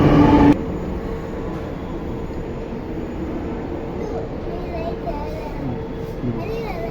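Train rumbling past at a steady roar near a penance place, after a brief louder burst at the start, with faint voices and a dog or birds in the background.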